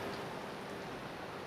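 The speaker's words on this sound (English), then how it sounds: "It is still raining" Steady, moderately faint rain patters on a city street in Singapore's Telok Ayer area, an even wash of drops with no voices.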